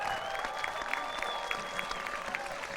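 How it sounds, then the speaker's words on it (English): Supporters applaud at a Stockade FC home soccer match against Seacoast United Mariners, a moderate, distant crowd clapping with scattered louder claps and faint whistles or cheers over an open-air background. "So round of applause for everyone for just the phenomenal support."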